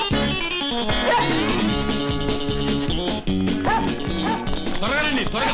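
A dog barks and yips in short bursts within a Telugu film scene, heard under loud, dense background music.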